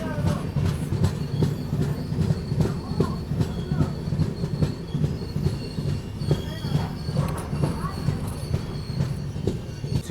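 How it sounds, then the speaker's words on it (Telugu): 12710 Simhapuri SF Express train running into Singarayakonda station, with steady rumbling wheels and clickety-clack over rail joints throughout, loud and close, with faint squeals. "సో ట్రైన్ డీటెయిల్స్ మాట్లాడుతూనే మనం సింగరాయకొండకు అయితే వచ్చాము."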